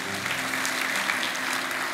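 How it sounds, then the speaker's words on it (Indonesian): An Indonesian church congregation claps together during a sermon, a full and even burst of applause filling the room, with a faint low hum underneath. "Kasih tepuk tangan untuk Tuhan Yesus"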